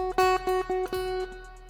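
A few guitar notes picked in quick succession over a sustained tone, ringing clearly up close before fading out.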